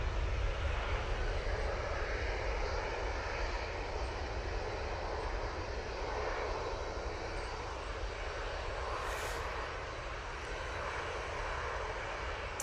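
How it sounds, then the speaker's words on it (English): A Ryanair Boeing 737 MAX 8 takes off, its jet engines producing a continuous, powerful roar that stays loud and steady, heard from a distance. "And off to Malta they go, and that's Ryanair 737 MAX 8."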